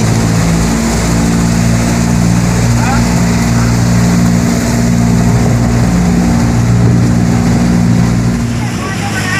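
An upgraded Mitsubishi 4D56 diesel engine fitted in a boat runs steadily during a test, a loud, close, continuous low hum and drone with no pause.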